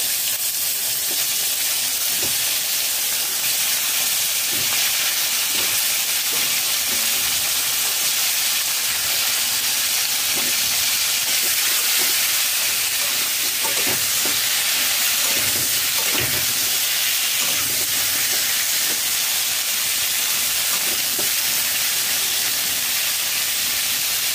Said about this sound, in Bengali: ভাজা তেলে ফুলকপি ভেজে নেব।